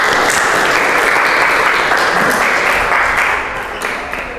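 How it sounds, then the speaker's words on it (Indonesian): A classroom crowd claps loudly in a dense, sustained burst that tapers off slightly toward the end, with no voices standing out. "Baik, kasih aplaus."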